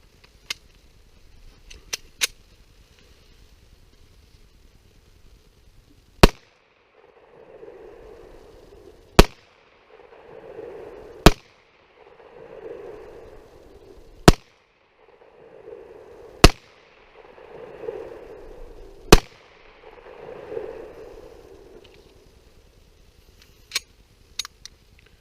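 Kahr CW45 .45 pistol fired outdoors, about six sharp, loud gunshots spaced a couple of seconds apart, with a few smaller clicks and pops before and after and faint background murmur between shots.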